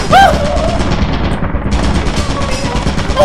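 Automated turret in the video game Lethal Company firing a loud, sustained burst of rapid gunfire that runs the whole stretch, with a brief high electronic chirp near the start.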